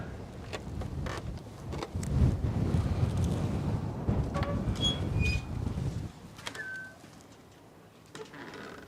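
Wind blows across the open grounds of the Manzanar camp site, a soft steady rush with a few faint bird calls and light knocks, easing off toward the end.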